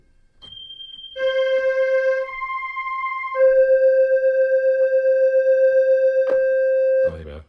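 Yamaha C-55 Electone organ plays a few sustained notes with a straight sound, pure and steady tones held for seconds at a time, close and fairly loud, with a short thump at the end; no talk.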